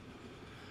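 Trains running along a line in the railway management game Transport Fever 2, a quiet, steady rolling rumble of wagons heard alone at low level over a brief moment.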